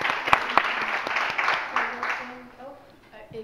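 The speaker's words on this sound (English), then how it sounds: "Give them a round of applause." A short burst of applause from an audience that fades out, with a voice speaking over it.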